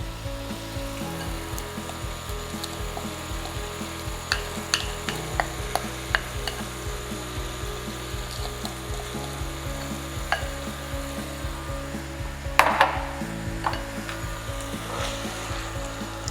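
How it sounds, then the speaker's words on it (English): A pan of tteokbokki sauce in boiling broth simmers with a low steady hiss while a utensil stirs and scrapes, giving soft repeated clicks and one brief louder clatter midway. "let's put the sauce mixture into the pan"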